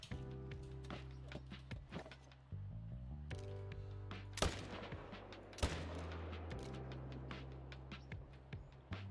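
Sharp rifle shots crack out in theHunter: Call of the Wild while hunting Tahr, several distinct reports spread over a few seconds above steady low hum and music-like tones.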